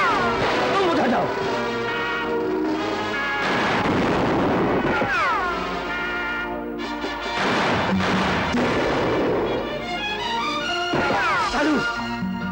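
Gunfire and crashing blasts in a battle scene from a 1972 Hindi action film, loud and continuous with repeated sharp impacts over a dense score, while voices call out in places.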